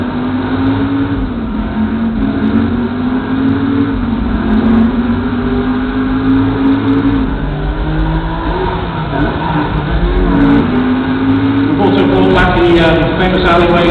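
Cars revving and racing in a chase between Tanner and Jericho in Driver: San Francisco, with a loud steady engine drone rising and falling in pitch through the whole stretch, plus tire noise and crowd or announcer sound late on.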